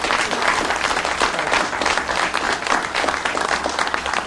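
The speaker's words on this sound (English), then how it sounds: "I think they deserve a round of applause for their service" Applause from a crowd at the ribbon cutting for a new emergency operations center, dense and continuous, steady in volume, with little talk above it.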